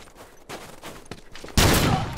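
Rifle gunfire in The Last of Us multiplayer match, a few sharp bursts followed by a louder, sustained volley toward the end, with no talk over it.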